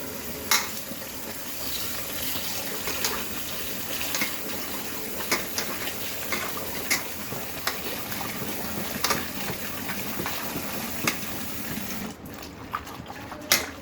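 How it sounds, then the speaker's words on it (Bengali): Jute leaves are washed in plenty of water, with a continuous rush and splash running steadily throughout and small clatters on top, close and fairly loud. "ভালো করে ধুয়ে নিই একটু বেশি জল দিয়ে দিয়ে ধুতে ধুতে হবে দু তিনবার ধুতে হবে"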